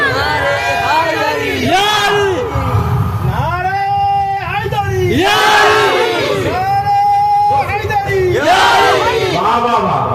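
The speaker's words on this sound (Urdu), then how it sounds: "ایک بار نعرے حیدری لگا دو. نعرے حیدری اور ذرا بلند آواز سے لگائیے." A large crowd at an Islamic religious gathering in Nandaigajan, West Bengal, roars the Nara-e-Haidari slogan in loud, tonal chanted shouts, rising in waves of massed voices through the whole stretch.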